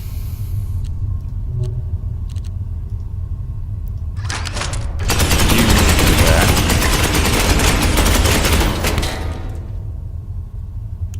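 Space Marine gunfire in Space Hulk Ascension, a dense, loud burst of rapid shots lasting several seconds over a low rumble, preceded by a few scattered clicks and ending abruptly.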